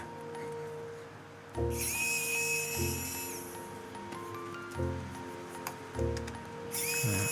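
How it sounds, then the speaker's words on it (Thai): A screwdriver works a screw out of a Yashica Electro 35 camera up close: a whining, motor-like tone comes in several short bursts separated by pauses, over faint room noise and without speech. "เดี๋ยวนี้ผมก็ใช้ไขควงไขออกนะครับ"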